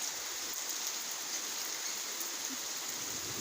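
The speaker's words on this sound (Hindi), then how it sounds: "बारिश भी हो रही है यहाँ पे" Rain falling outside, a steady, even hiss of drops that holds at the same level throughout with no talking over it.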